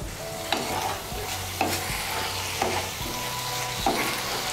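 Food cooking in a pan over raised heat is stirred with about five evenly spaced scraping strokes, roughly one per second, over a steady close sizzle, with no voices.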